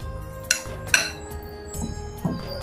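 Marinated chicken pieces for pakodi are mixed in a bowl, giving a few clinks and knocks of a utensil against the bowl over soft, close handling noise.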